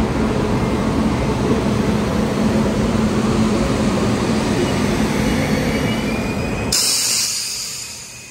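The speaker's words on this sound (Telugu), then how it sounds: "మెల్లగా వచ్చేస్తుంది బండి కో కెనడా ఎక్స్ప్రెస్" The Co Canada Express train rolls slowly into the platform at its destination, Kakinada Port, with a steady low rumble of wheels and cars that changes abruptly near the end.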